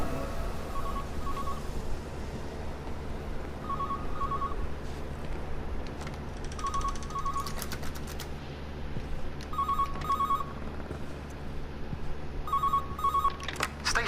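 An old landline telephone in Everybody's Gone To The Rapture rings in five evenly spaced double bursts over a low ambient hum, with no talking.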